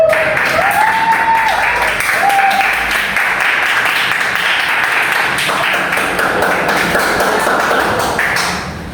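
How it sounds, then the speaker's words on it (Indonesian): Schoolchildren in a classroom clap their hands together in praise, a loud burst of close, dense clapping with sharp taps that carries on for several seconds before easing off near the end. "Jawabannya bagus, tepuk tangan anak-anak"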